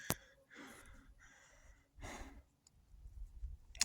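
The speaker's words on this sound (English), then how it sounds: "Sorry for the heavy breathing." Heavy, audible breaths from a hiker out near old mine ruins come close to the mic: sharp inhales and sighing exhales in an uneven rhythm, separated by brief quiet pauses.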